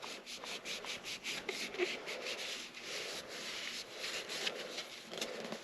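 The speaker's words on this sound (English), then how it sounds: "Get a good wipe down." Damp cloth wiping down a car fog light on an FK8 Civic Type R, soft close rubbing and scrubbing strokes in a quick, uneven rhythm, faint and alone.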